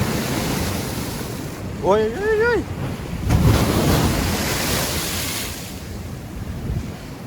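Huge waves from a stormy sea crash against the rocky shore at Utes in Crimea, a loud continuous roar with wind buffeting the microphone; a person cries out in alarm as a big wave surges in and breaks close by.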